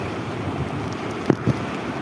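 Rising floodwater rushing steadily during a heavy downpour in Mangadh, a constant loud wash of flowing water with wind buffeting and a couple of brief splashes.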